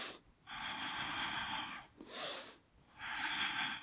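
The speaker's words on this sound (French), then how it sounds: "Continue à respirer." Slow, deep breaths during a yoga exercise: two long, airy exhalations heard up close with a short sharp inhale between them, steady and unhurried with no talking.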